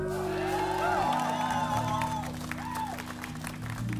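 Concert audience clapping and cheering at a live show, steady broadband applause with scattered whoops and shouts, heard alongside sustained music tones and some voices.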